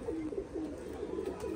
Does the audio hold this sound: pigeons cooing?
yes